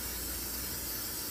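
Cooking spray misted over pork chops in an air fryer, heard as a short, steady, soft hiss that holds for its whole brief length, with no voices.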